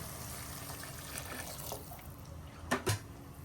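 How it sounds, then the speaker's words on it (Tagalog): Water pours into a pot of lomi noodles in a home kitchen, a soft steady splashing and trickle with a couple of brief louder splashes near the end, no voices. "dagdagan pa natin ng tubig yan ha"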